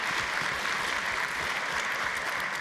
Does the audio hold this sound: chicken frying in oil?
no